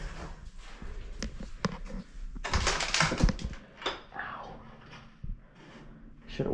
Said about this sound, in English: Shoes, I just stepped on glass.